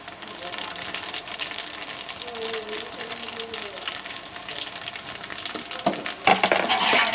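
Whole spices fry in hot oil in a pot for Punjabi chicken yakhni pulao, a steady broadband sizzle with occasional stirring scrapes and clinks, growing louder near the end; a voice briefly hums and speaks in the background.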